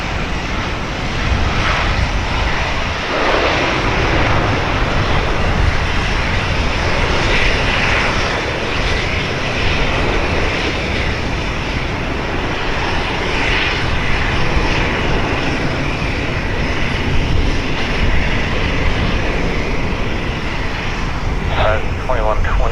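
An airliner lands on runway 28 right at Portland Airport, a loud, sustained engine roar that holds steady the whole time.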